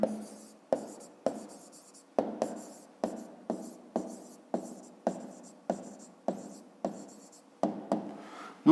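Pen writing on paper during a fifth-grade math exercise, a series of about fourteen short scratching strokes in an even rhythm, close and clear with no talk.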